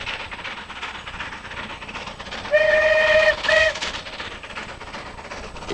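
A steam locomotive whistle sounds on the Settle and Carlisle railway in the hills, two clear blasts, the first longer, about a second apart, heard over a steady rumble of wind and train noise.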